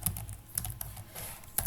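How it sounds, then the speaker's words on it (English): Keystrokes on a computer keyboard while writing programming code, quiet clusters of clicks with a few sharper taps, no talking. "I hate my typing skills."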